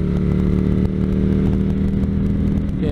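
A 2019 Harley-Davidson Electra Glide Police Edition cruising along a road gives a loud, steady engine drone with heavy wind rush and no breaks, and no voices are heard.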